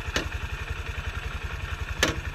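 A motorcycle engine idling in first gear during a riding lesson, a quiet, steady low putter with regular rhythmic pulses and two brief sharper clicks.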